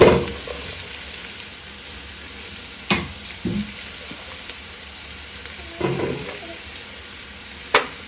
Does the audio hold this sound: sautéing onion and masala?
yes